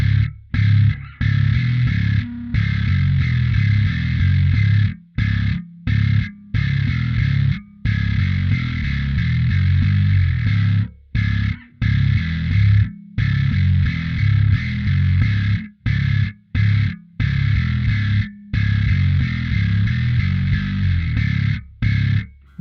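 Heavily distorted bass guitar through a Darkglass Alpha Omega Photon pedal plays chugging, gritty riffs in repeated bursts separated by short silent breaks, with no voices.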